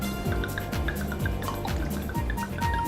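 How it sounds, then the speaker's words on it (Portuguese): White wine pours steadily over pork set out for roasting, a continuous close liquid splashing and dribbling into the pan, with no talking. "Então o que a gente vai colocar aqui, um vinho branco de boa qualidade."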